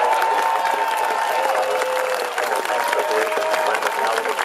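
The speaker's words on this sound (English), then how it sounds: "Okay, now you can applaud." A crowd of people applauds and cheers with continuous clapping after Space Shuttle Atlantis STS-129 reaches orbit in November 2009, while voices talk and tonal sounds carry over the applause.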